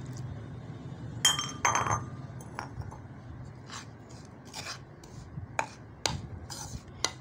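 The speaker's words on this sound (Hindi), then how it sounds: "मैं इसके अंदर थोड़ा थोड़ा करके आपके सामने दूध शामिल करती जाऊंगी और इसको मिक्स करती जाऊंगी" A spoon clinks against a bowl while milk is mixed into Oreo cupcake batter: sharp, irregular ticks and taps over a soft stirring scrape, close by and with no voices.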